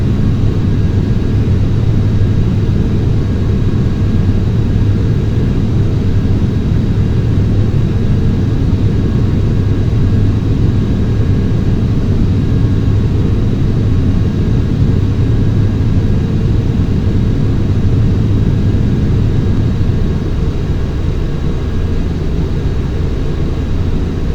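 An airliner in a flight simulator game roars steadily through its takeoff roll and rotation from Cincinnati, a loud, constant low engine drone with rumbling that stays even throughout.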